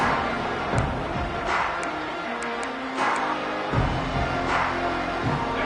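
Stadium crowd in an NCAA college football video game roars steadily and loudly, with a few sharp whistles and swells rising out of the continuous broadband noise.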